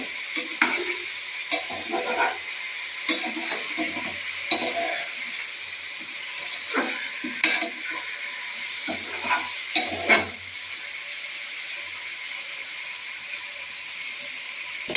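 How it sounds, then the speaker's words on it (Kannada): Mutton chops sizzling and frying in a pan, Maratha-style, with a steady hiss under repeated scraping and clinking of a spatula stirring the meat, no voices. "ಫ್ರೈ ಮಾಡೋಣ."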